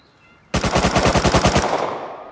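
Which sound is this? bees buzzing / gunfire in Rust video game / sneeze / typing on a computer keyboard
gunfire in Rust video game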